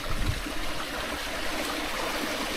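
A burn running through dark woodland at night, heard as a steady close rush and trickle of water with a broad hiss and low rumble, continuous and without voices.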